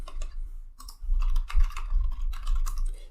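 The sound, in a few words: typing a command on a computer keyboard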